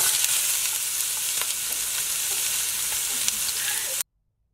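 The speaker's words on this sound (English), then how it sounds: "That is what it should sound like when you put those onions in the skillet" Onions dropped into hot oil in a skillet preheated over medium heat, a steady, loud, crackling sizzle with scattered pops that runs unbroken for four seconds, then cuts off abruptly.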